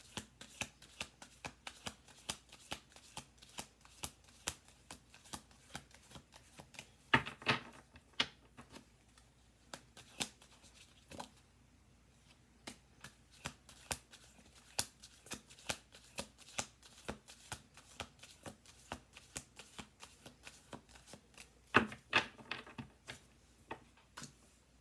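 Playing cards shuffled by hand, long stretches of quick, light ticking riffles and taps, close and quiet, with a couple of sharper bursts along the way.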